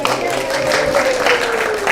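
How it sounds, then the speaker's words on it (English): Applause from a church congregation at a Sunday service, a steady wash of clapping filling the room with a faint voice or tone running through it. "I think everybody ought to give her a round of applause"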